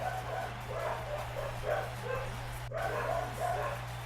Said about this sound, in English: My dogs are going nuts again over a freaking dog.